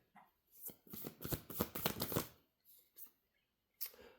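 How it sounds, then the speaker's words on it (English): Moonology oracle cards being shuffled by hand, a quick run of close, crisp riffling bursts followed by a few lighter, separate shuffles after short pauses. "Let's pull a Moonology card and let's get started with this message."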